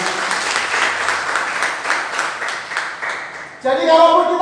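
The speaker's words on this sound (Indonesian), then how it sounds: "boleh beri tepuk tangan yang luar biasa." Loud congregation applause at a Christmas church service in Surabaya, dense clapping that runs for several seconds before stopping abruptly as speech takes over.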